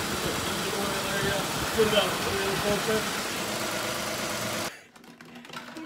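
A Toyota Aurion engine idles steadily after an oil change, a loud, even rumble that cuts off abruptly near the end, leaving a near-quiet stretch where a voice briefly speaks.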